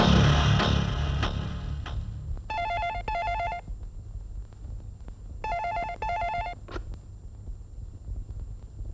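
A telephone rings in two double bursts of bright electronic trilling, each pair separated by a pause, over a low steady background hum in a Hindi drama scene.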